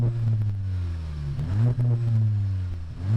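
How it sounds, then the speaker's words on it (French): A Volkswagen Golf GTI TCR limited edition with a new exhaust fitted gives a deep, raspy note at close range, droning steadily with a quick rev blip partway through. "L'échappement est en place, ça fait déjà plus de bruit, c'est plus rauque on va dire, on sent vraiment que c'est plus profond comme bruit."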